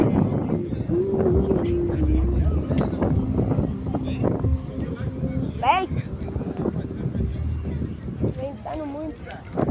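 Strong wind buffets the microphone at an outdoor car event, a steady low roar running throughout while people talk over it and engines and other crowd noise mix in.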